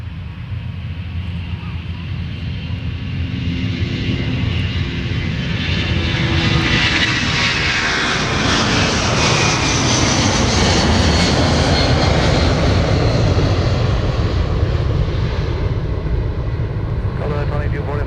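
Pratt & Whitney jet engines on an airliner at Minneapolis airport roar steadily and loudly, swelling as the aircraft powers up, then holding a broad sustained rush close by with no talk over it.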